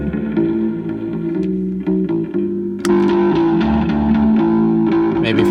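A distorted, fuzzy bass guitar riff with a gritty amp tone, growing louder and heavier partway through, played steadily without any voices.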